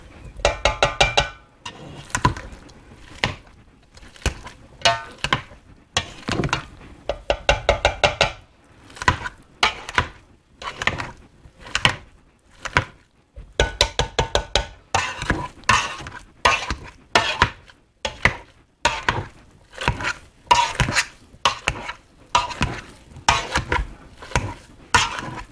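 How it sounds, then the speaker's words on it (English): A potato masher works through boiled potatoes in quick bursts of soft, wet squelching thuds and light scrapes against the pot, repeating rhythmically with short pauses between bursts. "I have a potato masher here and I'm just going to mash them down"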